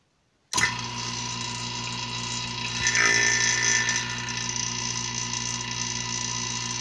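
A vacuum pump evacuating a chamber starts abruptly and runs with a steady droning hum and whirring, swelling briefly midway, with no talking.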